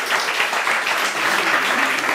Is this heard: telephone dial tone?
no